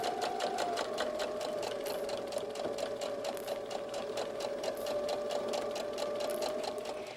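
A sewing machine stitching a fabric bear softie, running steadily with a rapid even clatter and a faint motor hum, close and uninterrupted with no talk.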